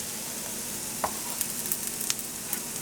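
Gingerbread buttermilk pancakes sizzle steadily in a hot pan, a dense, even frying hiss heard close up with a few faint ticks and pops and no talking.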